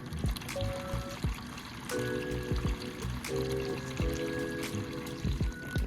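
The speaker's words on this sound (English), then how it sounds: "I have a little water in here. I'm gonna add a little more." Water trickles and pours steadily into a bowl where raw chicken is to be washed, a continuous close splashing stream lasting throughout with small clinks in the background.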